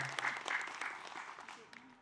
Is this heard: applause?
yes